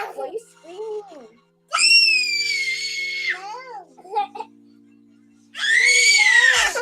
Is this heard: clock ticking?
no